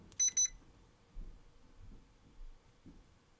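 An ohmmeter with sound indication, used while replacing a decoder in a Proto 2000 USRA 0-8-0 model locomotive, gives two short, sharp high beeps in quick succession close by, followed by faint handling noises.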